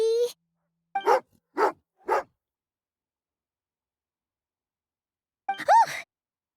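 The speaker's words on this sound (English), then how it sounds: "angry doggy" Growling from a dog creature in the video game Genshin Impact, a few short rough bursts followed after a pause by a louder snarling whine, alone with no talk.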